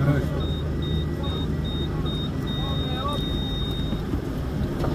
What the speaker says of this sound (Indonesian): Di luar gini kan angin.